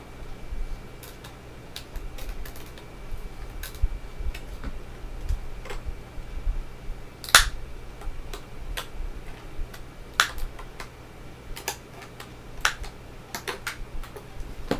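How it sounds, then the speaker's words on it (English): A Blusmart laminator's corner trimmer snipping off the corner of a sheet, heard as sharp, isolated clicks and ticks scattered over a quiet background, with one louder crisp snap standing out partway through. "stick it in just like so, just like that. And what it does, it should just trim it off"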